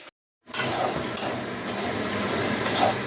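Sliced potatoes fry in hot oil in a home kitchen, giving a steady, dense sizzle that starts abruptly after a brief silence and continues close and loud, with occasional faint utensil clinks.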